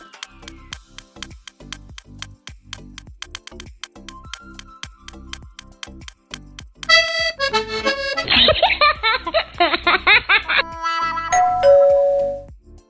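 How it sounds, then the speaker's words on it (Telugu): A home doorbell chimes during a wedding anniversary gathering, a bright ding-dong tune over a steady ticking beat, followed by busier electronic tones near the end. "సడన్గా వచ్చిన కాలింగ్ బెల్ సౌండ్"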